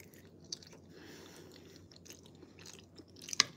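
A person eats a boiled egg, with soft, quiet chewing and mouth sounds running close and low throughout, broken by a small click near the start and a sharper bite near the end.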